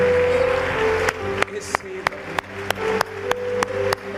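A church congregation in worship claps together in a steady rhythm, sharp, evenly spaced claps about three per second over sustained keyboard tones and a voice.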